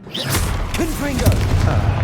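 Confringo blasting spell exploding in Hogwarts Legacy: a sharp burst followed by a sustained rumbling roar with whooshing magical tones, mixed with brief game voice sounds throughout.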